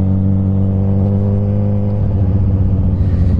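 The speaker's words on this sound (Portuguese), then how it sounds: "marcha lenta com a moto fria" A Suzuki GSX-S1000 motorcycle engine idles cold after a remap, a loud, close, steady low rumble with a smooth even pulse that roughens slightly toward the end.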